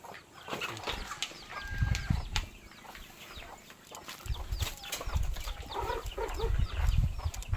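Chickens cluck and squawk intermittently nearby, with some flapping and scuffling noises in an outdoor setting on a coconut farm.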